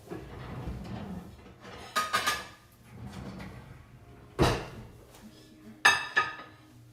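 Frying pan and cookware handled while cooking sausages with rosemary, giving several sharp metallic clanks and clinks in separate bursts, near and fairly loud, between quieter rustling stretches.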